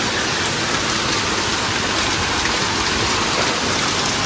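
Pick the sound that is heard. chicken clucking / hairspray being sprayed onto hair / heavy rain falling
heavy rain falling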